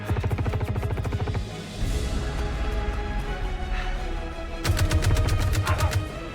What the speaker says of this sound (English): the gun recoil feels pretty nice